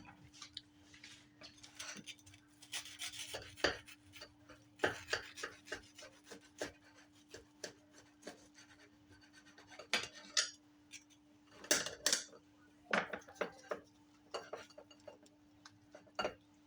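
A knife saws through a breakfast sandwich of egg, turkey and ham, giving close, uneven scraping and crunching strokes with a few sharper clicks against a plate, with no voices.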